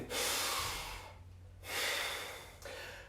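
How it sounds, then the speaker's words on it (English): During a fitness class workout, a person breathes in a controlled way, close to the microphone: two long, forceful breaths and a shorter one, each a strong airy rush separated by brief pauses. "Control the breathing."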